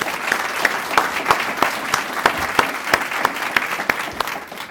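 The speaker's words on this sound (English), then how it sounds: "Give yourselves a round of applause." An audience at a community announcement event for the B.E.A.T. Center breaks into loud, steady applause, dense clapping with sharper individual claps standing out, close and alone without talk.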